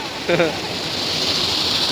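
Water pours and rushes steadily at an overflowing full reservoir or falls, a constant broad roar close by, with a brief voice heard near the start.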